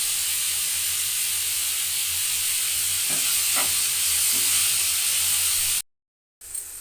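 Chopped tomatoes with a pinch of salt fry in a pan for bisi bele bath, a steady close hiss of sizzling with a few soft scraping knocks midway, then a brief cutout before the sizzle returns; no one speaks.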